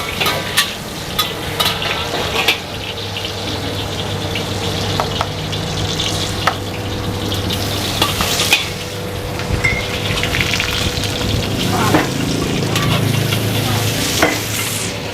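Rice fries and sizzles in a hot wok while a utensil stirs and scrapes in an uneven rhythm, loud and close, with no talking.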